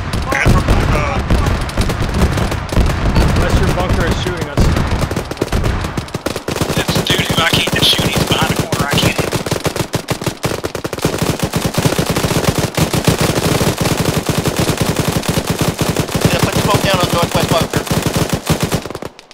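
Sustained incoming machine gun fire from a bunker in the military game Arma rattles loudly and nearly continuously in dense, overlapping bursts, with a brief lull early on before the shooting resumes in full.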